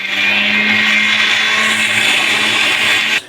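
A kitchen blender grinds masala paste for prawn masala, a loud, steady whirring drone that runs alone for about three seconds and then cuts off abruptly.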